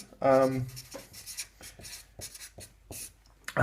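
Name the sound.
drawing on a board while explaining intersection theory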